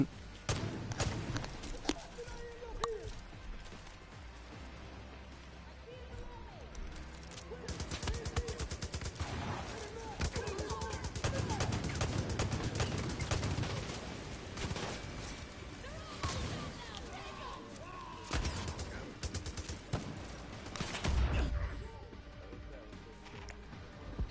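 Dense gunfire from the video game Far Cry New Dawn, rapid bursts and single shots mixed with loud game effects and music, continuous and busy throughout.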